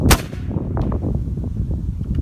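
A Benjamin 357 Bulldog air rifle fires a single sharp, loud shot near the start, the crack ringing briefly before a steady background rumble continues to the end.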